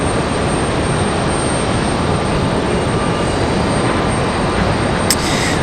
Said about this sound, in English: So here we go, Sky West, in I believe the actual Sky West livery.